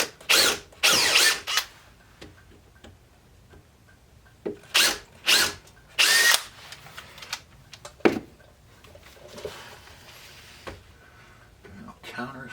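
A power drill bores small pilot holes into an arcade cabinet panel in several short, loud bursts of whirring, with a few clicks and handling sounds in between.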